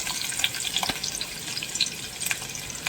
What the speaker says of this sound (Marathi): आता टोपात तेल घेतलं, त्यात जिरं घातलं